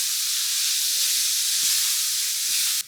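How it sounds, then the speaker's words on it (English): Onions sauteing in a pan while ribs are braised, producing a constant bright hiss and sizzle at close range with a few faint light clicks underneath, and no one speaking. "So we're going to saute this until these are softened."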